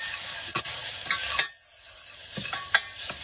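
Spices are stirred in hot oil in a pan on a home stove for a Maharashtrian sprout moong bhaji, giving a steady high sizzle with a spoon scraping and tapping the pan several times, close and alone.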